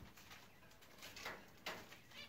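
Birds calling at a smallholding, faint soft coos and short chirps repeating a few times at a distance over quiet outdoor background.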